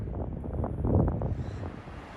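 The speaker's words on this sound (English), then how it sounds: "So the wind has really picked up." Strong wind gusting through trees, heard as a rough, low rushing roar that buffets the microphone, swelling briefly and then easing back.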